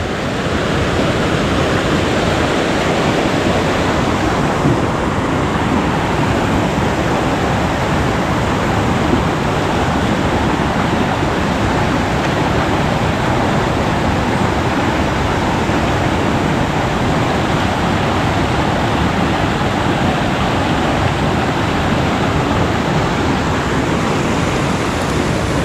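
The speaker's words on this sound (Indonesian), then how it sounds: "Itu di depan kita melewati sungai kecil." Small mountain stream on the Citiis trail up Mount Guntur, Garut, its water rushing in a steady, continuous broadband wash that stays close and fairly loud for the whole stretch, with no voices over it.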